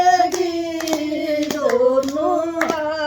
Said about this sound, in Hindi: ये माँ दुर्गे आवेगी, दोनों हाथ बजाओ ताली।